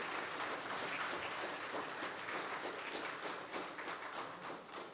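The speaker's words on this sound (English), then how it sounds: "Let's give her a good round of applause." Worshippers at a morning church service give a round of applause, a dense, even wash of clapping that holds steady for about five seconds before easing slightly near the end.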